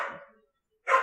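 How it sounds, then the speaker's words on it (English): Dogs bark in short yappy bursts, a first bark fading out, then a gap of near silence before another sharp, loud bark near the end. "I mean, we're getting lots of barking."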